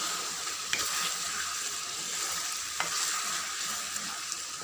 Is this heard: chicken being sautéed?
yes